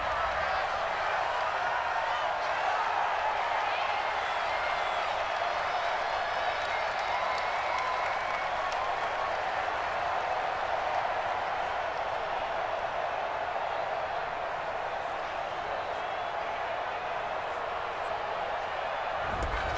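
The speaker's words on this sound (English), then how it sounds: "This home crowd, they're happy with that call" A home crowd roars in Madden NFL 20 during a Tennessee Titans at Atlanta Falcons game, a dense, steady wash of cheering that holds at an even level throughout.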